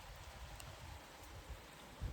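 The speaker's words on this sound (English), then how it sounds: "you can hear by the sound of the rain, it's getting even heavier." Heavy rain during a thunderstorm pours down as a dense, continuous wash of noise, steady and fairly loud throughout with a brief low thump near the end.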